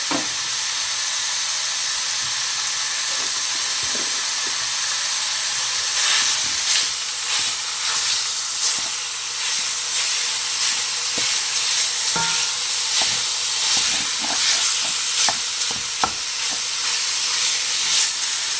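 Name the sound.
ground beef sizzling in hot pan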